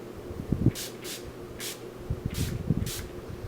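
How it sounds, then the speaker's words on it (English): Five quick hissing pumps of Farsali Rose Gold Skin Mist spray onto a face, each short burst separated by brief pauses, with soft handling noises in between. "I want to show you guys the Farsali Rose Gold Skin Mist."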